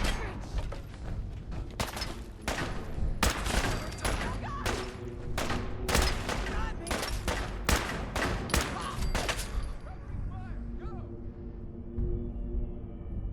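Rapid bursts of gunfire and explosions fill a Fallout 4 battle, dense and loud for about ten seconds before thinning out into quieter fighting.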